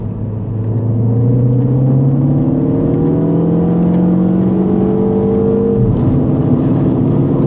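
A car in sport mode with manual paddle shifting accelerates hard, its engine note climbing steadily through a long gear, then dropping sharply at an upshift near the end before rising again, loud and continuous with no talk.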